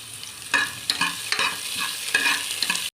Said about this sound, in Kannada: ಈರುಳ್ಳಿ ಚಿಕ್ಕ ಚಿಕ್ಕದಾಗಿ ಕಟ್ ಮಾಡಿ ಇಟ್ಕೊಂಡಿದ್ದೀನಿ ಅದನ್ನು ಫ್ರೈ ಮಾಡ್ಕೊಂಬಿಡೋಣ